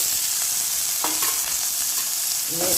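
Grated coconut frying in a pan with turmeric, drumstick leaves, curry leaves, chilli and chopped onion, a steady close sizzle with a few brief scraping stirs and no talking.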